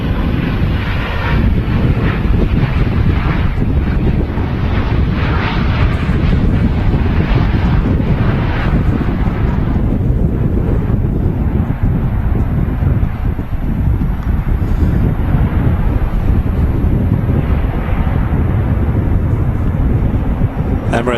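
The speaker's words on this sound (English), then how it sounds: "ATR 76 touching down from Dublin." An ATR 72-600 turboprop airliner arriving from Dublin touches down at Manchester Airport, giving a steady, loud engine roar with wind buffeting the microphone throughout, no voices on top.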